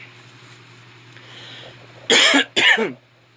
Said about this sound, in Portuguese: de repente entrou um pigarro aqui na minha garganta